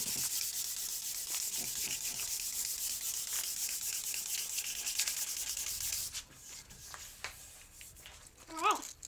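Hand sanding with 320 grit paper on an epoxy wood table gives a soft, steady rubbing scrape in repeated strokes, quiet and close, then pauses with a few brief knocks near the end.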